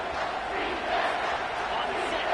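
A home football crowd roars steadily on third down as the defense tries to get off the field, a dense, sustained wall of cheering that holds at an even level throughout.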